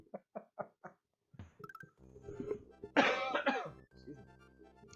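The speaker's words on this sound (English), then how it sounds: "Laughing always seems to make me cough, especially with this respiratory infection." Four short, sharp coughs in a quick row from a person with a respiratory infection, followed by the person talking and laughing.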